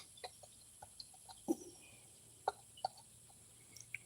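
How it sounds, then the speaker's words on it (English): Baby chickens clucking and peeping in short, scattered chirps, several soft calls spaced irregularly over a few seconds against a quiet background. "I checked on the biddies, the little baby chickens"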